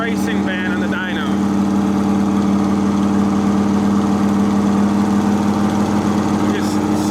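A drag racing car engine runs on a dyno at a car meet, holding a loud, steady droning roar throughout with a strong low hum, and voices talk briefly over it at the start.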